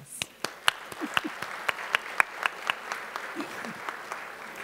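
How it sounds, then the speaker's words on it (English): Scattered applause from an audience at a school event honoring students, with distinct individual claps in an uneven, fairly regular rhythm, a few hands at moderate distance, and a faint murmur of voices beneath. "I think you deserve a round of applause"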